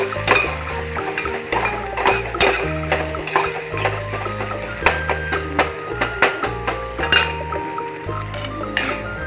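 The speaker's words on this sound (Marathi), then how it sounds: "आणि आता हे मी चांगल्या प्रकारे परतून सुद्धा घेणार आहे" Peanut chutney ingredients with salt are stir-fried in a pan, with repeated clinks and scrapes of a spoon against the metal over a light sizzle, close and busy.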